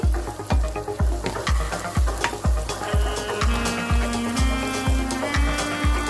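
Onion and freshly ground masala fry in oil for a whole Japanese quail dish, giving a steady sizzle broken by a regular series of sharp knocks, about two per second, likely a spoon tapping and stirring the pan, with no talking.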